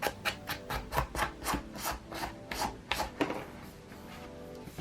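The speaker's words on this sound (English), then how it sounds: "I'm just using a nail file and I'm going to kind of just file down the edges" A nail file rasps back and forth along the edges of a vinyl record sleeve in quick, regular strokes, close and fairly clear, with a brief pause before a final run of scraping.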